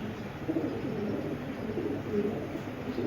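A female tiger pigeon, a raced hen from the ARPCD club, gives soft, low coos in short, uneven runs, faint and close against a quiet background.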